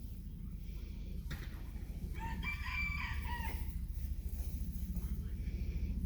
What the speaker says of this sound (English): He is one handsome rooster.